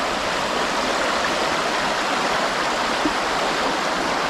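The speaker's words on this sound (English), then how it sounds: "So we do have rapids on the Choctawhatchee." Rapids on the Choctawhatchee River in southeast Alabama, heard from a kayak as a continuous, even rush of churning water, loud and close, with no speech over it.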